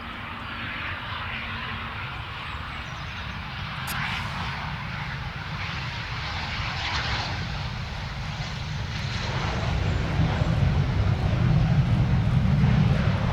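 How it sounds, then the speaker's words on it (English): An airliner lands at London Stansted Airport, its engines roaring in reverse thrust, a loud, sustained rumble that builds toward the end, heard from a distance. "See the reverse thrusters out there."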